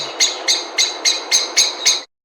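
Close, loud bird call in a jungle video game: seven evenly spaced, bright repeated calls over about two seconds, each one a sharp chirp followed by a brief fade.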